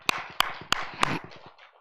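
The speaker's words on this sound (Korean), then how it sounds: "박수!" Four sharp, evenly spaced hand claps ring out in a small room, followed by a short, faint scatter of clapping that quickly dies away.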